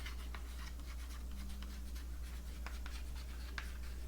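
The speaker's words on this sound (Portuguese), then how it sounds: "Vou escrever aqui, ó." A pen scratching across a surface in short strokes while writing the word for positioning, faint and close, with irregular scratchy bursts over a low steady hum and no speech.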